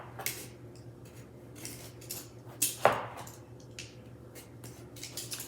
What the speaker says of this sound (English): I'm just going to go ahead and slice.